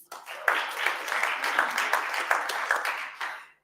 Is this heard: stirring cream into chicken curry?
no